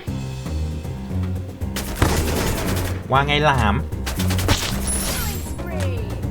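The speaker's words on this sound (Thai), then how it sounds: "แม็กลูกระเบิด ยิงรัวๆ ไม่กลัวใคร" Trogon gun in a video game firing a grenade magazine in rapid bursts, dense crackling gunfire with loud booming impacts, close and continuous, while someone talks over it.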